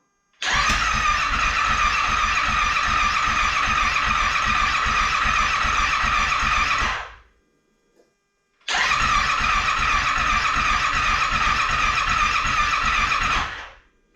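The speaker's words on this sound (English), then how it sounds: "is to crank her over and see if she'll start." A flood-damaged Yamaha Wolverine X4 side-by-side engine cranks over in two long, steady bursts of starter churning, each about seven seconds, separated by a short pause, loud and close without catching.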